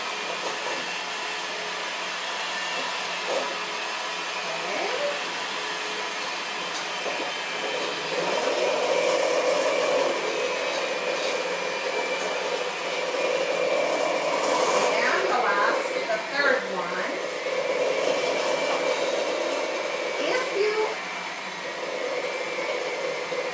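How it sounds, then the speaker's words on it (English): Electric mixer blending scone dough for paleo peach ginger scones in a home kitchen, a steady whirring drone running the whole time and growing louder partway through, with a voice talking over it. "blend it very slowly as we use the mixer"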